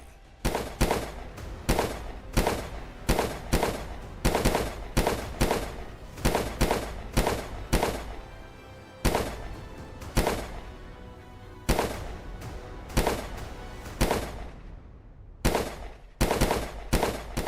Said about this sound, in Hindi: शूटरों ने एक के बाद एक करीब 13 गोलियां चलाई।